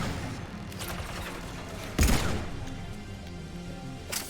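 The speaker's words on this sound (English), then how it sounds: "Stop shooting at me!" A sharp burst of Mass Effect 3 gunfire cracks out midway, a loud single blast standing out over a busy mechanical game background with a few fainter pops around it.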